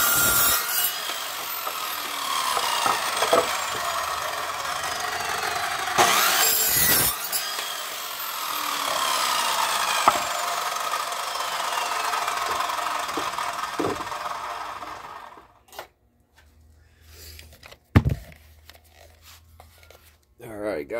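A wooden board being cut to size with a power saw, loud and continuous for about fifteen seconds with brief surges, then cutting off to near quiet with a few knocks and a voice afterward.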